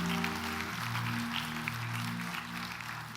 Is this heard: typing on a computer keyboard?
no